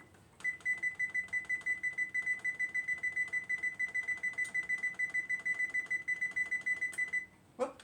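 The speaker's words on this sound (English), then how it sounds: "So I'm gonna go ahead and set the timer." A kitchen timer for baking Nutella chocolate brownies beeps rapidly as it is set, a long run of evenly spaced, bright electronic chirps followed by a short pause and a final beep.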